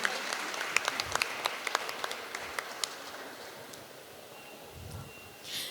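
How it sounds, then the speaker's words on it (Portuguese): Scattered claps from an audience welcoming a speaker at a talk about Marighella and resistance to the military dictatorship, sparse and uneven at first, then thinning out, with a short rustle near the end. "Palmas para a Catarina, por favor."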